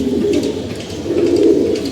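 Pigeons coo nearby, two swelling bursts of low burbling calls with a brief dip between them, clear and close without any voices.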